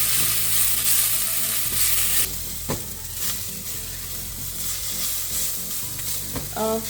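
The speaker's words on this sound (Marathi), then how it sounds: "आता हा आपल्याला कांदा थोडासा फक्त ट्रान्सपॅरंट होईपर्यंत भाजून घ्यायचा आहे" Chopped onion frying in a pan as the base for crab soup sizzles steadily while a spatula stirs and scrapes it in irregular strokes, with a few metallic taps toward the end.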